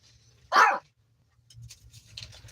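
A small puppy gives one short, sharp yip-like bark, close and fairly loud, followed by faint rustling and quiet sounds.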